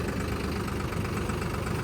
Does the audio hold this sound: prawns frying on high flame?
no